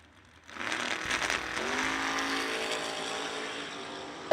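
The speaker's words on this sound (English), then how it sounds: "another pair of pickup trucks to the starting line" Pickup trucks launch off a drag strip starting line, rising from quiet into a sustained loud engine roar with a climbing tone and a faint ratcheting edge, heard from a short distance.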